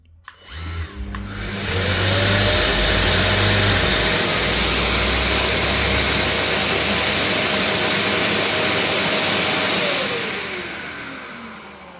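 A Mirka Deros electric dual action sander connected to a Mirka 1230L dust extractor, used for vehicle bodywork, spins up to a loud steady whine with a rushing suction roar, runs evenly for several seconds, then winds down.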